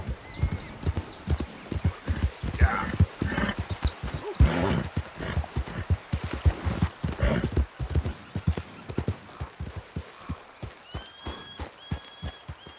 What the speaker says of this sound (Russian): Ну вот его лошадь.